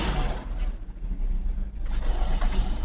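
A 2004 BMW E46 330ci engine runs close by with a misfire, giving a steady low, rough rumble with uneven pulses and no voices.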